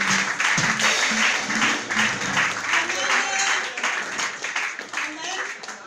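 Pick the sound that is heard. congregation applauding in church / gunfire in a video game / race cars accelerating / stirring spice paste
congregation applauding in church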